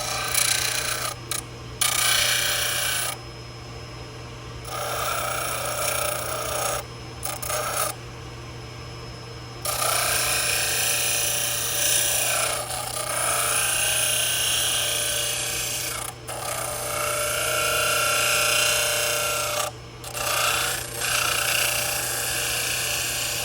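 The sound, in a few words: grinding and shaping 3D printed full arch implant prosthesis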